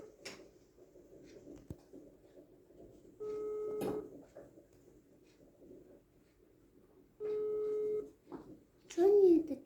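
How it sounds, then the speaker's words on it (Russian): Telephone ringback tone while a call goes unanswered, two steady buzzing tones separated by a quiet gap, with soft background noise and a voice briefly heard at the end. "Подожди, Людочка, я позвоню папе"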